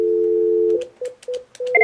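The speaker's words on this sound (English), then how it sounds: "There's your dial tone. Dial your digits." An office desk phone on speaker plays a steady dial tone, then a string of short DTMF keypad tones as digits are dialed, clear and close.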